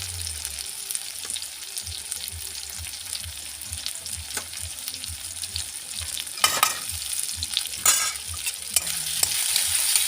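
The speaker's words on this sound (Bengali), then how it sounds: "ভালো করে নেড়ে নেব।" Potato curry (aloo dum) with whole green chillies being stirred in a pan: steady sizzling under repeated scraping strokes, with a few louder clattering scrapes midway, close by and without speech.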